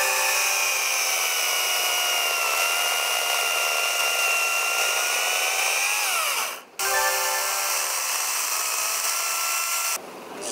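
A Makita MUC204CD cordless chainsaw runs with a steady, loud electric motor whine that holds for several seconds, dips briefly twice and then resumes. No one talks.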